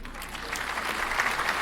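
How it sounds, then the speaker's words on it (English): Applause from an audience in a furry dating sim video game, a dense, steady clapping that swells slightly over a short stretch, heard alone. "The speaker continues his speech, but the applause drowns him out."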